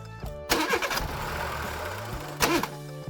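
A bus engine cranks and tries to start with rough bursts, sputters and fails, then cranks again briefly, heard close up without talk.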